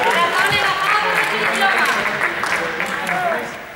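An audience at a team competition applauds the second-place Diamonds team with dense, sustained clapping that stays steady for several seconds before easing off at the end.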